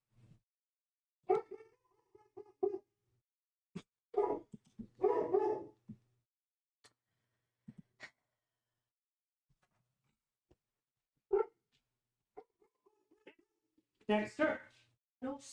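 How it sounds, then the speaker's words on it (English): A dog barks indoors in short, scattered bursts of a few yaps, some of them whimpery, with long quiet gaps between them and a person speaking intermittently nearby. "now the dog's barking at something"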